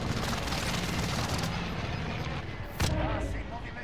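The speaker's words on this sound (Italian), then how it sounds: "Bombardamento qui." Artillery bombardment in a Battlefield-style video game: a dense, continuous roar of distant shelling and gunfire rumbles throughout, with a sharper close blast near the end, under faint voice chatter.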